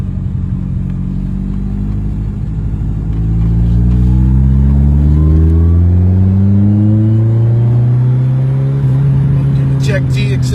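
A 1979 Ferrari 308 engine, newly running after seven years idle, on a road test: a loud, close engine drone that rises steadily in pitch as the car accelerates, with faint scattered clicks near the end.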